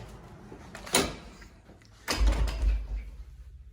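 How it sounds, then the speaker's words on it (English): A door at a railroad museum opening and closing, two close thumps, the second heavier with a brief rattle, in a quiet room. "And just walked in the door."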